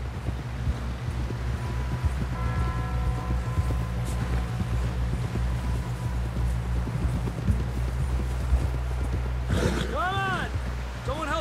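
Horse hooves on a trail in Red Dead Redemption 2, a steady clip-clop running beneath a low rumbling game ambience, with a sweeping chime tone near the end.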